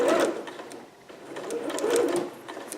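A sewing machine stitches dress fabric with a close, steady rapid whirring and clatter that slows briefly in the middle before running again.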